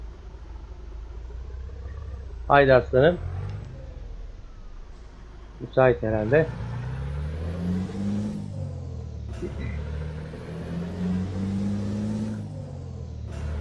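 Scania truck engine in Euro Truck Simulator 2 rumbles low and steady at idle, swelling slightly in places, with someone speaking over it in bursts.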